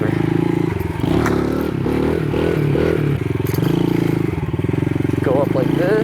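A motorcycle engine revs and drones steadily up close as the rider pops a wheelie, its rise and fall mixed with clattering wind rush and a voice talking over it.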